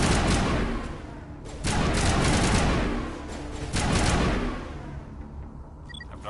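Sustained gunfire from the video game Mass Effect Legendary Edition roars in long, loud waves that swell and ease, with a brief lull between volleys and a few faint electronic blips near the end.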